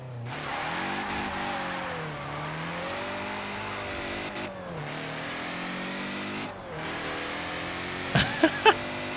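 An old Porsche race car in Forza Horizon 4 revs hard through repeated rising and falling engine sweeps, a loud, close, raspy drone, ending with a few sharp pops or clicks.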